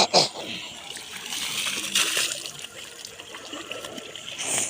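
Water poured by hand during a village Mattu Pongal celebration, splashing and trickling in uneven bursts, fairly close, with faint voices around.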